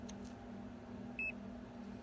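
A Kobalt 400A AC True RMS clamp meter gives one short, quiet electronic beep as it powers on, heard alone over a low steady hum.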